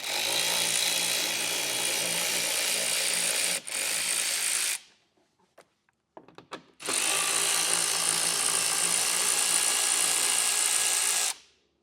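Power drill or driver whirring loudly and close as it removes two 10mm screws from an inside panel of a 2024 Ford, running in two long bursts with a short pause and a few clicks between them.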